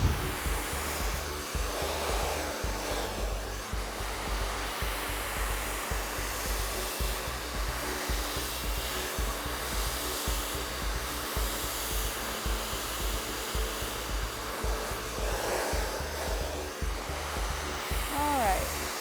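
A hair dryer blows hair dry with a steady, loud, continuous whooshing roar that swells slightly now and then, running without a break.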